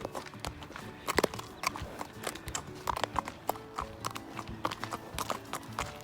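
A horse's hooves clop along an outdoor trail in Washington state in an uneven walking rhythm, close and fairly loud, with soft rustling between steps.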